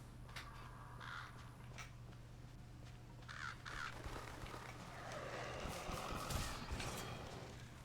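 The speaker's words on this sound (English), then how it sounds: "Oh, that was a bird." A crow-like bird caws in the Dragon's Dogma: Dark Arisen game world, a few short harsh calls over steady ambient background noise and faint game sounds, moderately distant.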